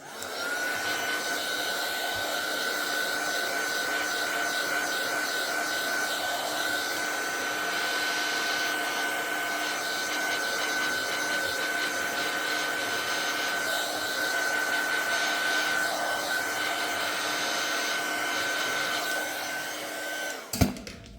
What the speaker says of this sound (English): I'll give it a rub over with the heat tool.